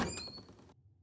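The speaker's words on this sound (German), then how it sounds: "Manchmal klemmt die Tür." A sticking door gets shoved open in a German-dubbed Looney Tunes cartoon: one short, bright thunk with a squeaky scrape that cuts off abruptly, quiet and close, and no voices.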